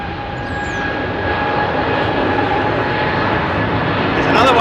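A Royal Air Maroc airliner with CFM56 engines at Heathrow gives a steady jet roar with a faint tonal whine, growing louder toward the end.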